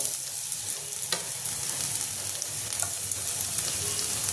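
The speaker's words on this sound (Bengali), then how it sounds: "এর মধ্যে আমি আদা রসুন গ্রেট করাটা দিয়ে দেবো।" Grated ginger and garlic fry with browned onions in a pan, giving a steady crackling sizzle with faint scraping from stirring and a few soft clinks.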